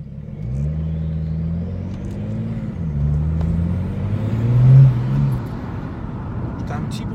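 A BMW 335d with twin turbos accelerates, its engine rumbling and rising in pitch as the turbos spool up, heard from inside the car while someone talks over it.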